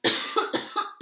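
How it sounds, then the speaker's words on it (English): A person coughs in a rapid series of four harsh bursts, close and loud, indoors with dust in the air. "I'm going to cough."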